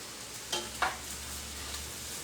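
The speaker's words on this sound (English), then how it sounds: "I'll get the ground meat browned" Ground meat for chili sizzling as it browns in a stovetop pot, a soft steady fry with two brief scrapes of a utensil breaking it up, close and moderately quiet.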